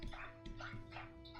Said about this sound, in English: It's just my dog.